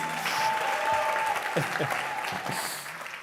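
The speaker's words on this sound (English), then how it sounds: "Big round of applause, please" An audience at a London startup founders' pitch event claps in a steady burst of applause, loud at first and thinning toward the end, with a voice speaking over the start.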